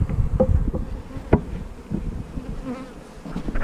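Honey bees buzzing around an open hive during routine beekeeping work, a steady close drone with a few sharper passes near the listener and faint clicks of handled hive frames.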